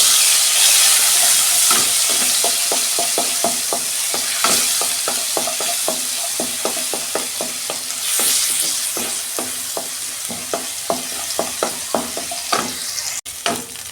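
Tomato paste sizzles and fries in hot oil with cumin while being stirred, a steady loud hiss broken by regular scraping strokes of a spoon against the pan.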